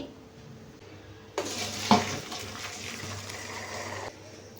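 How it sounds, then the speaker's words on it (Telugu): Boiled egg noodles are poured out to drain, giving a steady rush of gushing water for a few seconds, with a sharp clank of a pot partway through. "ఇప్పుడు వెంటనే నూడిల్స్ని వడగట్టుకునేద్దాము స్టవ్ ఆఫ్ చేసుకొని"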